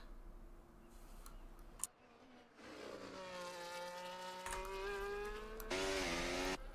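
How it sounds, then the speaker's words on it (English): A race car in a racing video game on the Singapore street circuit revs up and passes, its engine tone climbing through the gears and getting louder toward the end, with a brief tick and dropout in the middle. "we're seeing one of the cars come through"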